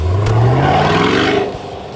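A Chevy Volt accelerates hard nearby in sunny Saco, Maine, its rising whine and road roar sweeping upward over a couple of seconds before easing off as it pulls away.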